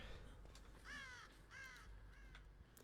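Crows caw within a video game, three drawn-out harsh calls spaced about half a second apart over faint background ambience, moderately close and clear.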